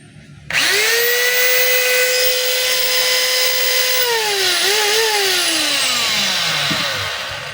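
A DeWalt D25033 rotary hammer switches on and runs steadily at high speed for several seconds, loud and close, its pitch dipping briefly near the end as it winds down slightly; no talking over it.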